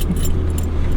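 A bunch of keys jangles briefly as it is handed over during a property viewing in the UK, with a short metallic clinking over steady low background hum.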